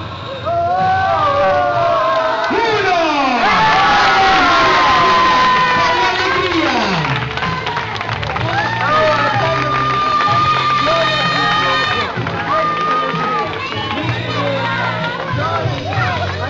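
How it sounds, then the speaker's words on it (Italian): A crowd at the Grest Family 2010 summer camp finale cheers, whoops and shouts for the announced winner, a loud, dense wash of voices, including children's, sustained throughout with rising yells over it. "Applauso!"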